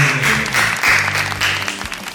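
Applause from an MC-hosted company event audience in Surabaya, a steady, dense wash of clapping at close range with faint voices and background music underneath, lasting a couple of seconds.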